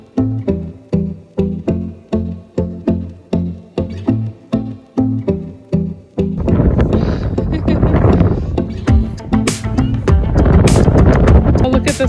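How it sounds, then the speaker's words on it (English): Gusty wind buffets the microphone outdoors on a chilly day, a loud broadband roar swelling in the second half after a stretch of rhythmic thumping at the start. "it's turning out to be a lot windier than I expected out here."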